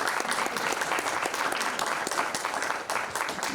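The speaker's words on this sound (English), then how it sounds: "let's give them a big round of applause." Dense round of applause from an audience at a community meeting, steady continuous clapping throughout with no pause.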